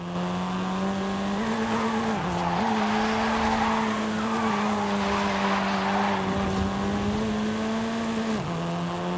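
A seventh-generation Volkswagen Golf R races in Forza Horizon 5 with a steady, droning engine note and a few quick dips as it shifts gears, while tires squeal faintly underneath.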